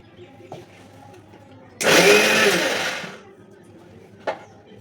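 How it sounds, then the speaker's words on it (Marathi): A kitchen mixer grinder whirs loudly in a short burst of about a second and a half, then winds down, with quieter clatter before and after. "मिक्सरला लावते आता."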